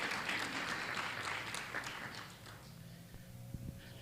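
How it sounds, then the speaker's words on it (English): A crowd applauds in a dense, steady wash of clapping that gradually fades out. "Clap it up for yourselves."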